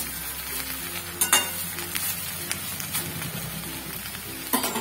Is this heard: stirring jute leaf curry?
yes